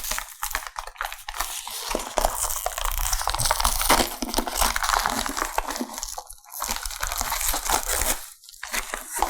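Cast iron bakeware pieces are unpacked from their packaging, with loud, steady crinkling, crumpling and tearing of wrapping material close by, broken by a few brief pauses.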